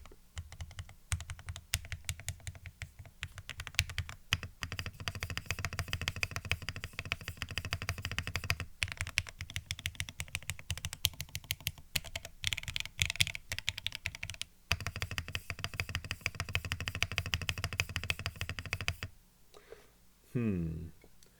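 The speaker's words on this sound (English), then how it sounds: "My typing is so bad." Steady, rapid clacking of a CherryB Neo87 mechanical keyboard goes on continuously, close up, with brief pauses and a voice entering near the end.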